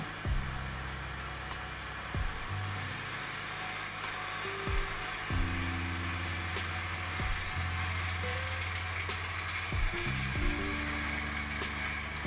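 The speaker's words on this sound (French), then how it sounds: "utiliser sa gouge à profiler pour une passe de finition" A wood lathe spins a wooden sphere as a sharp double-bevel profiling gouge takes a light finishing pass, giving a steady mechanical hum with clicking, ratchet-like catches and a few brief tonal shifts, close and with no talk.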